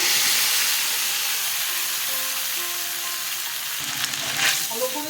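A paste of ginger, onion and green chilli hits hot oil for a katla fish kalia, a loud, dense sizzling hiss that carries on steadily with faint whistling tones and stirring toward the end.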